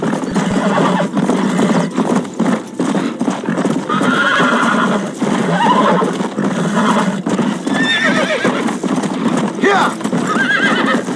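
A horse in the Western video game Red Dead Redemption whinnies loudly over steady clip-clopping hooves, with voices talking throughout.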